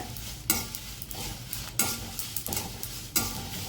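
Sesame seeds and dried red chilies roasting in a pan are stirred in a few scraping sweeps, with a faint dry sizzle between the strokes and no talking.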